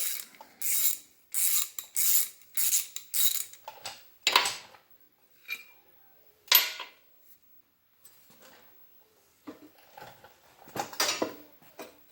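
Ratchet wrench working the cinch bolt on the rear axle of a 1948 Ford 8N tractor, a run of quick metallic clicking bursts up close, then sparser clicks and clunks with pauses between.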